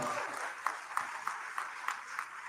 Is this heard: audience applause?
yes